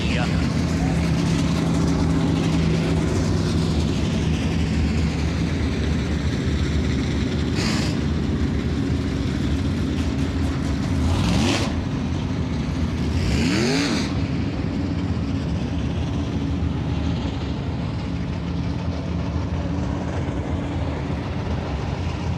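Dirt late model race cars roar steadily around Cedar Lake Speedway, a continuous engine drone with a few brief louder passes, while an announcer talks over the noise throughout.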